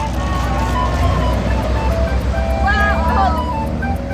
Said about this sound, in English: Bye-bye, ice cream truck.